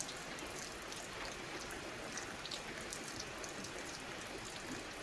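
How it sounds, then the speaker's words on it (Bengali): Steady, dense rain pours down without pause, a constant heavy hiss with faint scattered drops on top. "কী হারে বৃষ্টি হচ্ছে,"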